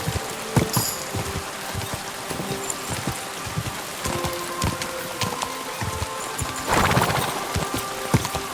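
Horse hooves in Kingdom Come: Deliverance 2 clip-clopping in a rapid, steady rhythm close by, with a brief rushing burst near the end and no talk over it.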